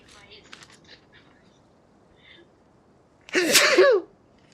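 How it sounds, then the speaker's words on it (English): A single loud, sharp human sneeze bursts out near the end, after a stretch of faint, quiet voices and near-silence. "what is the difference between one sneeze and twice sneeze?"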